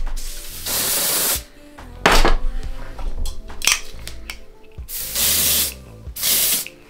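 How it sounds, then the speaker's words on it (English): Ebin lace melt spray hisses in several bursts onto a 13x5 deep wave frontal wig, each spray roughly a second long, separated by handling clicks, rustles and the rattle of the can. "That was the ebon lace melt spray."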